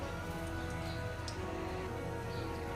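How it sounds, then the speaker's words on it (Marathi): Mustard seeds spluttering in hot oil in a kadhai for tempering, a dense continuous crackle of tiny pops like rain on a surface, steady and close. "मोहरीला चांगला तडतड करून द्यायचं आपल्याला"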